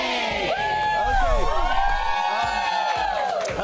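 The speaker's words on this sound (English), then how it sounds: "Oh, this good Sunday night crowd." Sunday night late-night talk show studio audience cheering and whooping loudly, a dense crowd roar with shouts and whistles sustained throughout.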